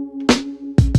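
A Rhodes electric piano patch on an Akai MPC One set to a single voice, playing a few short notes where each new note cuts off the last, with a sustained tone between clipped attacks.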